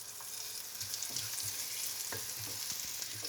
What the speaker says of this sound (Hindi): चलिए अब लहसुन जो है मैंने 1 टीस्पून लहसुन चॉप डाल रही हूँ इसमें।